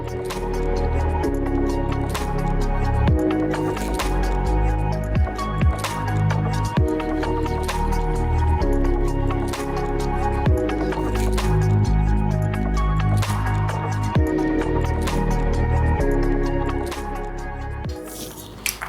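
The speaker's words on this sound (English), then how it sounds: "So I'm going to cut the potatoes in cubes." A knife cuts potatoes into cubes for a Polish vegetable soup, giving soft, moist squishing chops at irregular intervals over steady background music.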